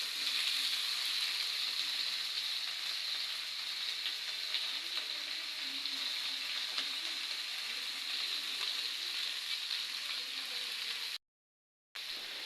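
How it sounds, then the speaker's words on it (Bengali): Finely chopped spring onions frying over a medium flame in a hot wok, giving a steady, close sizzle with faint stirring that runs almost unbroken before a brief silent gap near the end. "গরম কড়াইতে আমরা কুচি কুচি করে কাটা পেঁয়াজকলিগুলো দিয়ে মিডিয়াম ফ্লেমে ভালো করে ভেজে নেব"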